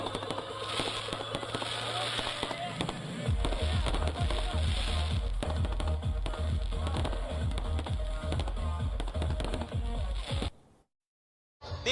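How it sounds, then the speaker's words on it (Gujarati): Diwali carnival fireworks display over the Madhavrao Scindia race course ground in Rajkot: a dense, loud, continuous barrage of crackling bursts and booming thuds that cuts off abruptly near the end. "માધવરાય સિંધિયા ગ્રાઉન્ડ ખાતે કરાઈ ભવ્ય આતશબાજી"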